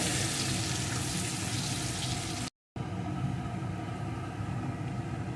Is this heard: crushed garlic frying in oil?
yes